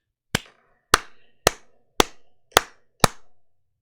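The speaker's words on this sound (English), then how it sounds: "So I'm going to try to clap along." Six sharp hand claps at a steady, roughly half-second pace during a JackTrip clap test on a Mac, each a crisp close strike with a short decay and silence between.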